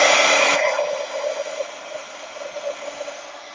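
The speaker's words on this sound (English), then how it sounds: "I'm going to use my dryer." A hair dryer runs close by, starting with a loud, bright whoosh that settles into a steadier, softer hum with slight fluctuations as it keeps blowing.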